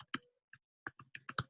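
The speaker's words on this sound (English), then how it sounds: "I'll type my email here" Someone typing an email address on a computer keyboard: a short burst of crisp, close key clicks with a brief pause in the middle, alone and without speech.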